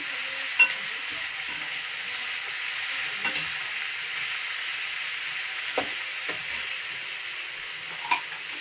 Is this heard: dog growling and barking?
no